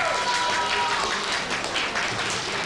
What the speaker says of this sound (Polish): Duże brawa dla niego!